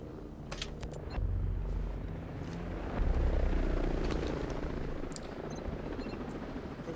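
A helicopter arrives in the video game Ghost Recon Breakpoint, its low rotor and engine rumble swelling to a steady drone that holds throughout, with faint clicks and game effects on top.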